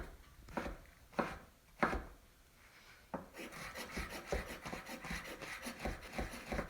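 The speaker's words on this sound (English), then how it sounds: "Now I'm chopping up some of the shiitakes, creminis, and button mushrooms." A knife taps against a cutting board in a few separate chops of shiitake, cremini and button mushrooms, then settles into faster, steady rhythmic chopping, close and quiet.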